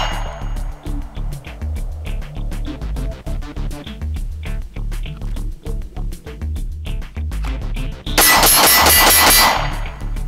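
Rapid pistol shots from a Glock 19 drawn and fired at a steel target, a string of sharp close cracks with metallic clangs, followed near the end by a louder, harsher burst.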